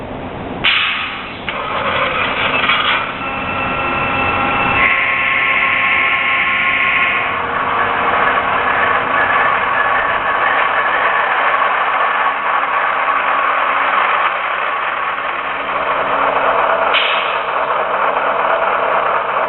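A model train locomotive's sound system rumbles with a continuous diesel-style engine idle, loud and close. Brief notch and bell-like tonal changes rise over the steady throb.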